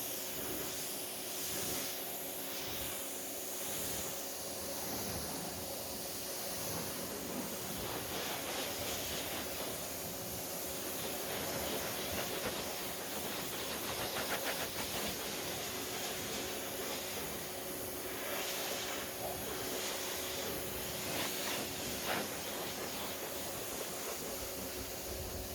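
A steady hissing water spray rinses a black car in the sun, continuous and even throughout, with no one talking.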